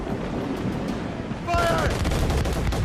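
Ship cannons boom in Assassin's Creed Rogue, a heavy broadside roar that swells suddenly halfway through over a rumbling naval battle, while a crew voice shouts over the gunfire.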